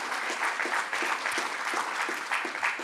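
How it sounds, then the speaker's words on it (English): Audience applause at a Governor Cuomo announcement at John Jay College of Criminal Justice, honoring the Daily News and Arthur Brown: a steady, dense wash of clapping from a crowd, sustained and fairly close, with no talk over it. "Let's give the Daily News and Arthur Brown a round of applause."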